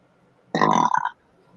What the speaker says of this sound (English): Sounds like a baby, freaking big old baby burp.